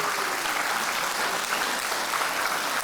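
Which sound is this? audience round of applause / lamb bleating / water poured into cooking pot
audience round of applause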